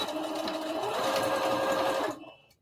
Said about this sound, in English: my sewing machine and do a top stitch right on top of that folded edge